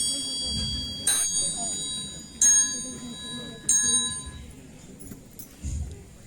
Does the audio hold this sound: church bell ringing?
yes